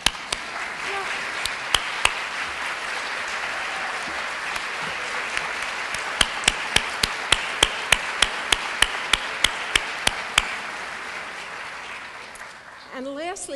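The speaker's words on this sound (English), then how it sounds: "we'll clap for them" An audience at a Marin County lecture event applauds steadily for several seconds, a broad wash of clapping with a few louder, sharper claps standing out near the front before it fades away.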